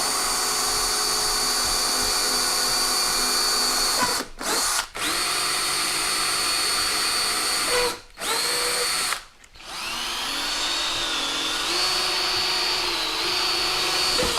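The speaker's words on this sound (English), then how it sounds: "we've got a 1/8 inch drill bit here, and we're gonna go ahead and make the first hole" A power drill with a 1/8 inch bit whines steadily at high speed drilling holes for a carbon fiber side skirt on a C6 Corvette, cutting out briefly a few times before spinning up again, close and loud with no talking.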